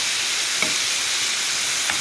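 Chicken for Syrian shawarma sizzles steadily in a hot pan, a loud close hiss of frying with two faint utensil taps as it is stirred, and no talking.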